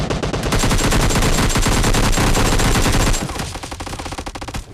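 Rapid automatic gunfire from the PUBG Lite video game, a loud dense burst of shots that continues without a break, then thins into a slightly quieter, still rapid stream of fire toward the end.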